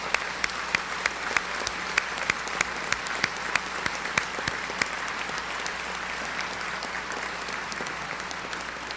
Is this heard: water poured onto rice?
no